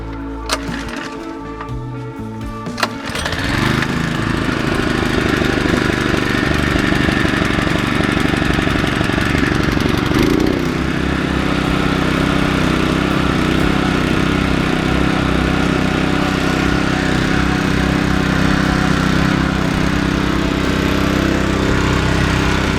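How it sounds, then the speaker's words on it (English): A few clicks and rattles, then a diesel tractor engine cranks and catches, settling into a loud, steady running rumble close by. "So I'm probably finna crank this tractor up,"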